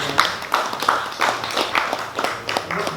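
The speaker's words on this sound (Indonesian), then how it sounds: "Kita berikan tepuk tangan kepada." Audience clapping for the speakers at a Pancasila event, moderately loud, made of scattered, uneven claps rather than a full roar.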